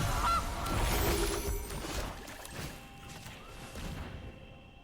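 Cartoonish goose honks ring out loud and close from a digital card game as the Gilded Goose card is played, a burst of squawks up front fading into softer game effects.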